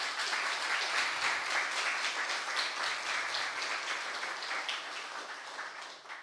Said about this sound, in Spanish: Creo que se merece un fuerte aplauso.